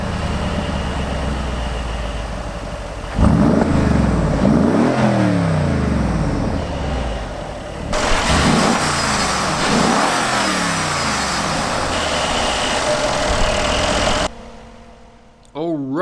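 A 2016 Mercedes-AMG G63's twin-turbocharged 5.5-liter V8 idles, then revs hard several times in sharp rising-and-falling sweeps, loud and close, before cutting off abruptly near the end.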